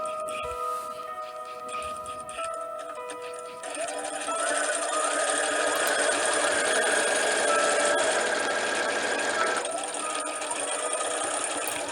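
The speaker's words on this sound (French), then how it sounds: "Et nous allons aller à la machine à coudre." A sewing machine runs close by as it stitches a cushion. Lighter, intermittent mechanical clicks give way after a few seconds to a loud, continuous whirring run, and there is no talking.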